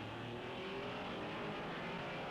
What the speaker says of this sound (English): This is Joe Bonnier's Porsche, never far away from his teammate Dan Gurney